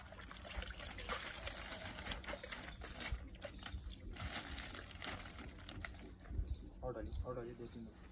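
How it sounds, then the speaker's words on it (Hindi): Water is poured and trickles onto seeds and soil, a continuous splashing wash with crinkling, while a person talks under and over it. "पानी हमेशा ऐसे डालना है"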